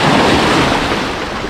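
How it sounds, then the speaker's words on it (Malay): Big ocean waves crash on a beach, a loud, continuous roar of surf filling the short stretch without any voices. "Tapi ombak besar."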